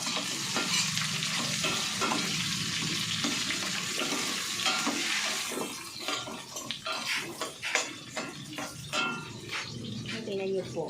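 Chayote pieces go into a simmering mussel stew in a pan, giving stirring clatter and a sizzling, bubbling wash at first, then scattered close scrapes and knocks of the utensil against the pot.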